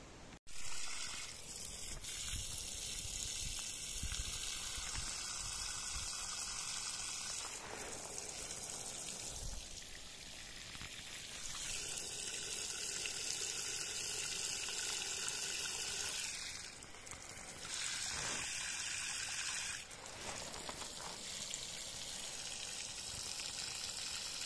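Steady trickling and splashing water runs almost continuously, with a few brief pauses, close and moderately loud, like water poured into soil from a spout, soaking potted plants.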